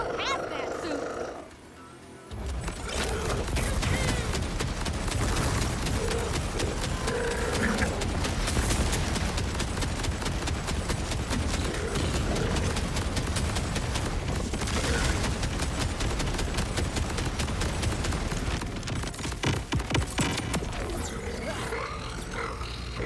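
Dense, continuous video-game gunfire from a weapon in Borderlands 4, a loud sustained barrage of shots and impacts that runs nearly the whole time, mixed with roaring effects and a voice talking over it.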